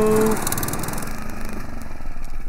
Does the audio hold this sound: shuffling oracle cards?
no